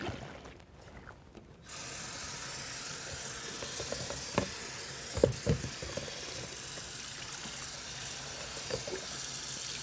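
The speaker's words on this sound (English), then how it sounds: "so now we're going to empty, rinse, and dry our basin." Water runs steadily into a sink as a basin is emptied and rinsed, a continuous hiss with a few splashes and clunks and no talking.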